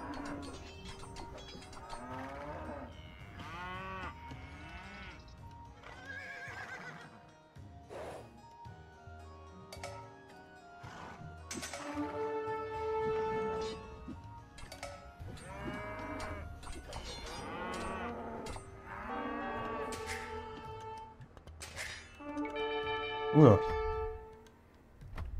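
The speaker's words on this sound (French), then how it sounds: "Avec le nombre de vaches qu'on récupère là." Cows mooing in the video game Age of Empires 2, repeated moderately loud moos spread across the stretch, some overlapping, with someone talking over them.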